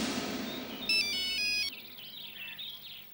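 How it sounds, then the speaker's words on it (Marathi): A phone ringtone plays a short bright melodic burst over a low hum, then cuts off, leaving faint chirpy background sounds. "साहेब, सुमित्रताईंचा फोन."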